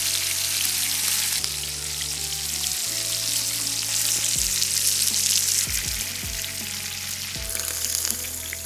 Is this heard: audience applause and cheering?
no